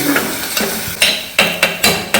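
Curry simmering in a pan with a little water, chilli powder and salt, for Madurai-style parotta, with a spoon scraping and clinking against the pan in sharp repeated strokes over a low bubbling sizzle.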